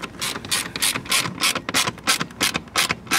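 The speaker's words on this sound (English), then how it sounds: "now start tightening up the screw." A ratcheting tool tightens a screw on a licence plate mount for a 2023 Mercedes EQE 350/500 sedan, giving a steady series of about a dozen crisp, close mechanical clicks in quick rhythm with no talk.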